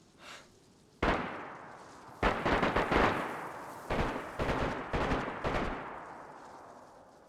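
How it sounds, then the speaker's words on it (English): Video game gunfire rings out in several sharp bursts: a faint shot, then a loud crack, followed by clusters of rapid reverberating shots with pauses between them, fairly close and with no voices. "Where are these guys shooting each other?"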